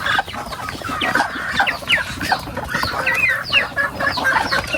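Chickens clucking in a coop bedded with rice husks, a busy run of short overlapping clucks and chirps, close and continuous, with a rooster among them.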